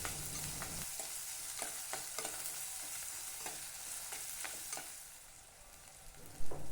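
Small onions sauté in oil for a spicy thokku, a low continuous sizzle with periodic scraping stirs of a spoon, close but quiet, ending with a couple of louder knocks.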